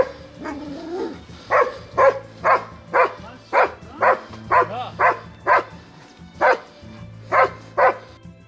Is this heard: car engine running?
no